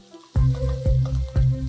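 A tempering of ginger and green chillies sizzles in hot oil for bread upma, with a sudden loud spit followed by repeated bursts of crackling and clattering stirs, close up.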